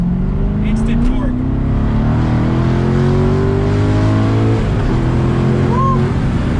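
A Corvette Z06 floored in second gear from low revs, the engine roaring loudly and climbing steadily in pitch from inside the car, with voices faintly underneath.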